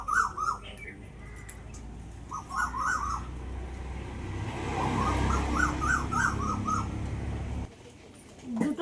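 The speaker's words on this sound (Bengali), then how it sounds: "কোকিলগুলো কি সুন্দর ডাকছে।" Several koels call in short rising bursts of repeated whistled notes, spaced across a few seconds, clear above a steady low hum near a kitchen where food is being prepared.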